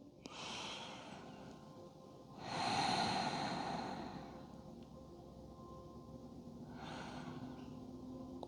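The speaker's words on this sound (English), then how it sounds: "Take a couple more breaths here." Slow, deep breathing during a gentle evening yoga session, three long airy breaths with soft inhales and exhales, close to the microphone, in a quiet room.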